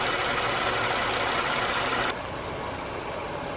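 A 3.6 liter Pentastar V6 in a 2018 Chrysler Pacifica runs steadily at idle after an oil cooler filter housing replacement, a continuous close engine drone that drops slightly in level partway through, with no talking.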